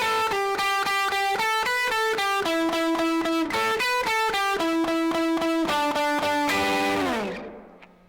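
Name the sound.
guitar distortion effect from Teenage Engineering EP-133 KO II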